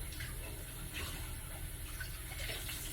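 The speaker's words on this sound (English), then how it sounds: "I'm going to go ahead and rinse off my pot lid" Running tap water rinses a pot lid at a kitchen sink: a soft, continuous splashing stream, fairly faint and unbroken for a few seconds.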